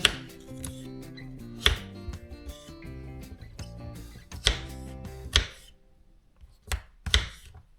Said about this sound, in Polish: Ziemniaki kroję małą kostkę